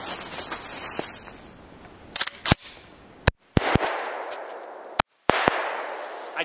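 Two loud, sharp shotgun blasts from a TriStar Viper G2 20 gauge fired at Diet Coke cans outdoors, the second arriving under two seconds after the first, each with a brief decay and broadband outdoor noise between them.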